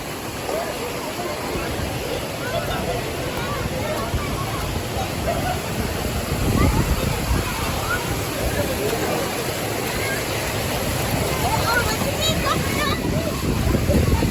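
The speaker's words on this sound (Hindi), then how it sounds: "इस दरवाजे पानी तेज़ है" Water rushes hard through the open gates of the Jatlan Head headworks in Mirpur, Azad Kashmir, a loud continuous broadband roar and splash with people talking over it.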